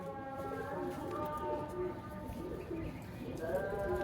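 A Ferozpuri pigeon coos softly and repeatedly close by, while a voice talks over it throughout.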